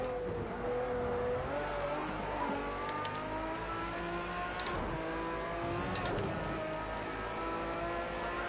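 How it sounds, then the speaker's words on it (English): Tire locking under braking in a Le Mans racing game at night: a high, strained squeal over the droning, shifting whine of a race car engine, with brief sharp scrapes as the car runs on. "And that's locking the tire again."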